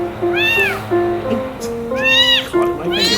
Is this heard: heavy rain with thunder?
no